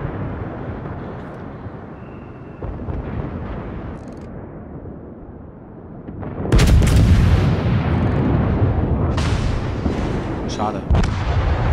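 Heavy naval artillery booms rumble continuously in the video game World of Warships, with a loud burst of cannon fire midway followed by sustained blasts; a voice talks faintly underneath.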